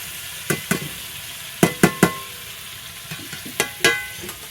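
Fried potatoes and pointed gourd stirred into sizzling masala in a village-style kitchen, with a soft frying hiss broken by several sharp spatula clanks against the pan, close by.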